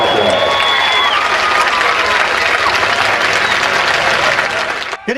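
A crowd at the Corbin High School Redhounds' Cumberland Falls Pigskin Classic football game applauds the 1955 state champion football team, with steady, dense clapping and some cheering throughout before it briefly dips at the end.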